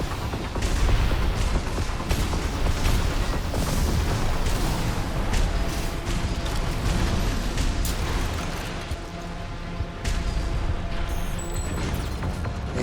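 Plasma missiles firing in Armored Core 6 during an arena fight, a dense, continuous barrage of loud booming and crashing impacts that keeps up steady pressure with no pauses, mixed with heavy combat noise.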